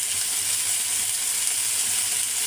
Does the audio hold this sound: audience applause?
no